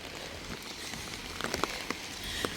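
Rain falling steadily in Udine, Italy, a soft continuous hiss with scattered close drip ticks, heard alone without voices.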